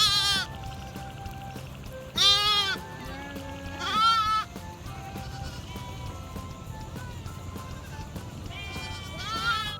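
On a mixed farm keeping goats, sheep and garole sheep, several loud, close bleats ring out in separate bursts with quieter gaps between them over a low background hum.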